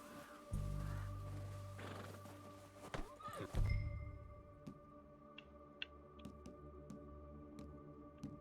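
A horse in the Red Dead Redemption 2 video game whinnies and snorts, with low thuds of hooves and scattered sharp clicks and taps afterward, heard fairly faint with a steady background hum.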